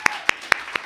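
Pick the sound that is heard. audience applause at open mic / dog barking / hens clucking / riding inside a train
audience applause at open mic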